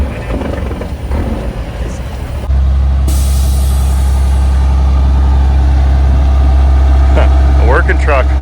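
A loaded working reefer truck at a truck show idles with a heavy low rumble, then a sharp burst of air-brake hiss cuts in over the steady engine drone.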